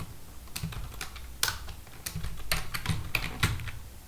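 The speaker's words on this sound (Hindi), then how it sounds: "यहाँ पर टाइप कर सकते हैं" Fingers tap out a file name on a computer keyboard in a quiet room, about ten crisp, irregular keystrokes of varying loudness heard up close with no talking.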